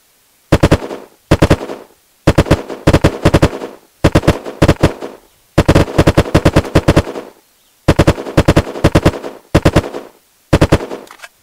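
Burst-mode gunfire in the video game Unturned, loud and close, with repeated tight clusters of three to five sharp shots separated by brief silences, and no voices.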